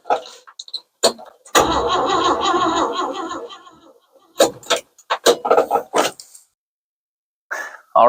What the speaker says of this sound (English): right now I'm going to get in the truck and try to start it